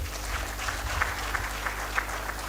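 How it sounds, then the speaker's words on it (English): An audience at the Uganda Water and Environment Week conference fills the room with steady, sustained applause, a dense wash of clapping with a few sharper individual claps standing out. "I think Mr. Jacob deserves another round of applause."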